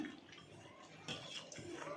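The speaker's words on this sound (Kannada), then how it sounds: "ಈಗ ನಾವು ಇದಕ್ಕೆ ನೀರು ಸೇರಿಸ್ಕೊಳ್ಳೋಣ ನೋಡಿ ಈಗ ನೀರು ಹಾಕ್ತಾಯಿದ್ದೀನಿ" Water poured in a thin stream into ragi flour dough in a bowl, a soft continuous trickle and splash lasting about two seconds, heard close and alone without talk.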